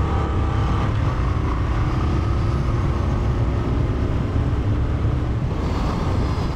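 A Royal Enfield Trials 350 motorcycle riding at speed, heard as a loud continuous engine drone heavily blended with wind rush on the microphone, steady throughout with no pauses.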